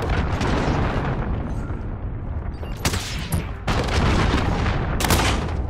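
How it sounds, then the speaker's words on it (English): A Call of Duty: Modern Warfare cruise missile strike: a constant low rumble of battle and gunfire, broken by two sharp, loud blasts, the second rolling into a heavier, sustained boom. "Allied cruise missile on the way"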